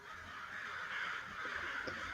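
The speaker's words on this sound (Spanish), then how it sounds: "se oyó un único y ronco graznido" A single hoarse crow caw used as a sound effect in an audiobook of The Lord of the Rings, a short rasping call standing alone, fairly close and clear against a quiet background.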